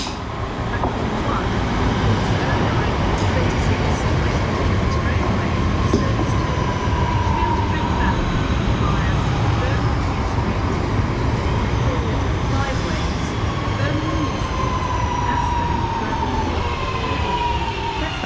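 A West Midlands Railway class 323 electric multiple unit running near Birmingham, a loud steady roar of wheels and traction close by for the whole stretch, with a rising whine and rail noise and no clear talk.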